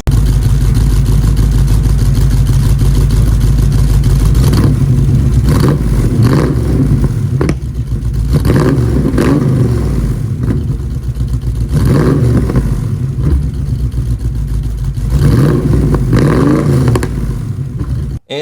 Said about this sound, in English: let me give you a little rev while it's open